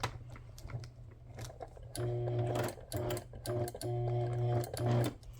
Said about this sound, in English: I'm going to go ahead and take the opportunity to sew my pocket